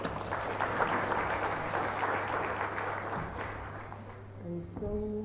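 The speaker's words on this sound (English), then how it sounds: "Let's give them a hand of applause." Applause from a conference audience welcoming a panel at an anniversary celebration in Lilongwe, Malawi: moderate clapping that gradually thins and fades, with a low hum beneath and a few faint tones near the end.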